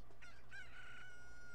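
A rooster crows in the video game Zelda: Ocarina of Time, one fairly faint drawn-out call over a steady low hum, with no talking.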